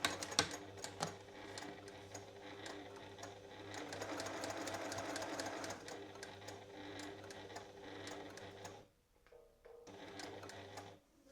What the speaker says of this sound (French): Et maintenant, je vais reprendre ma couture à la deuxième épingle.